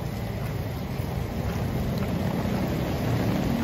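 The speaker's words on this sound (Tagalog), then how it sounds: "May hangin pa kasama yung ulan dito sa Green Hills." Steady, dense roar of heavy wind and rain in Green Hills, San Juan, loud and continuous, with no voices.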